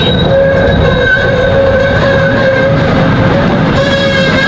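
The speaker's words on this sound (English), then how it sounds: "This must be where they usually park the trains for the night." A train rumbles loudly and steadily nearby at a zoo, with high metallic wheel squeals ringing over the constant rolling noise.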